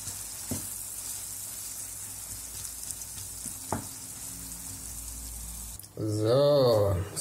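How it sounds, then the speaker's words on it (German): Minced meat for lasagne bolognese simmers in its own juices, giving a soft continuous sizzle with a couple of faint knocks. Near the end it is cut off by a louder, wavering tonal sound, likely a brief voice. "Solange wie hier das Hackfleisch in seinem Saft kocht"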